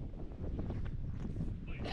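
Blustery beach wind rumbles against the microphone, a continuous close buffeting with no talk over it.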